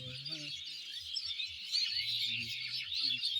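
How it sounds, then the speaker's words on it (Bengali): A tree full of mynas beside a pond chatters and chirps in a dense, overlapping chorus, with a lower call repeating beneath it, moderately near. "গাছ ভর্তি পাখি, শালিক পাখি সবগুলা।"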